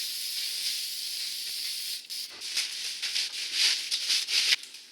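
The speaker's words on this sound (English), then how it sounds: "spray the mylar instead of the tarp itself." Spray adhesive hisses from an aerosol can onto a mylar sheet, first in one long continuous burst, then in a series of short choppy spurts, close and fairly loud.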